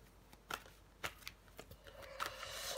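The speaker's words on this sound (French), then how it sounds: "Je vais recouvrir des cartes." Tarot cards handled during a reading, soft quick riffles and flicks of card stock coming in short bursts close by, faint and without voices.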